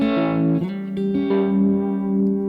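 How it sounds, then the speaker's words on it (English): Electric guitar chords run through the harmonic tremolo of a Neural DSP amp plugin, sustained notes pulsing with a steady wobble and washed in reverb, played alone with no talking. "The harmonic tremolo."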